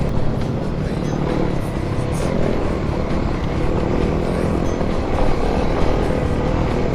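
A Kawasaki KLX250 dirt bike rolls downhill in second gear on a trail, its engine and rough terrain noise a constant, close, loud drone throughout with no voices.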